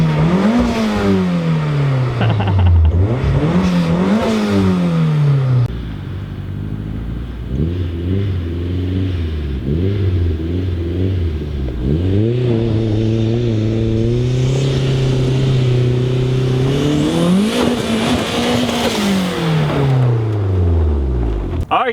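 A 1998 Toyota RAV4 4WD with a 3S-GTE turbo engine revs repeatedly, climbing and falling in pitch, then holds at steady higher rpm with more rises. Loud and close, with turbo and blow-off valve sounds between the revs.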